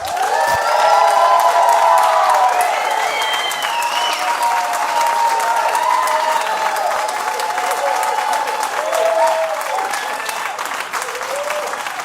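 An audience at the Red Clay venue applauds and cheers to welcome a singer onto the stage, with steady, dense clapping and scattered whoops swelling near the start and holding loud and close for about twelve seconds.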